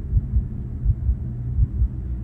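A horror video game plays a deep, throbbing heartbeat, steady lub-dub pairs pulsing loudly in a low rumble, with no talk over it.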